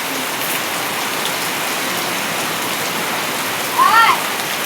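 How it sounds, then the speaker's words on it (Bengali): Heavy rain falling steadily, a dense broadband hiss of downpour on surfaces throughout, with a brief faint tonal sound near the end. "বৃষ্টি একদম অনেক অনেক।"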